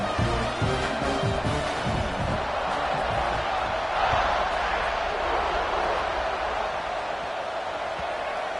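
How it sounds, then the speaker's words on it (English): A stadium crowd buzzes in the CFB26 college football game, a continuous broad roar with a slight swell midway, under a commentator's voice. "this crowd is buzzing after that last score"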